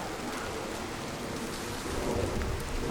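Steady rain with rumbling thunder in Pokémon Go, a continuous wash of falling drops over a low roll that swells slightly toward the end, with no talking.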